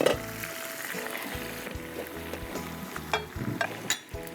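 Chicken fries in a pan on a home stove for a hot garlic chicken salad, a steady close crackling sizzle with occasional clinks and stirring knocks over it.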